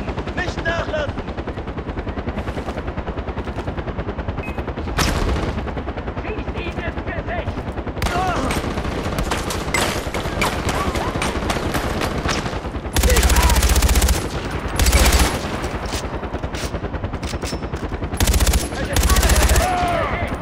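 Sustained automatic gunfire and machine-gun bursts from a Far Cry 4 firefight, dense and continuous for the whole stretch, with louder, heavier volleys breaking through near the end.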